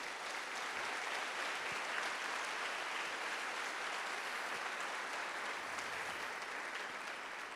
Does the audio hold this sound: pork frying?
no